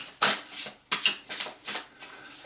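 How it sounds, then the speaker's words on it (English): A deck of tarot cards shuffled close up: several quick, crisp riffles in a steady rhythm, each a short papery burst, with no talking. "So all the cards have been fully shuffled."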